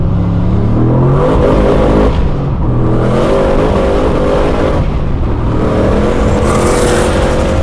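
A 900 hp manual turbo LS Holden Commodore SSV pulls hard in second gear, its engine note rising in repeated surges between shifts, loud and close from inside the cabin, with no talking.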